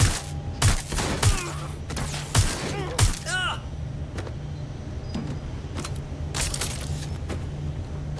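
Gunfire in the video game Watch Dogs: Legion: a burst of four sharp, loud shots in the first three seconds over a steady low engine hum, followed by quieter scattered clicks and clatter.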